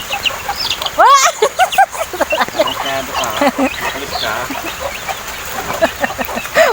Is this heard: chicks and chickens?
yes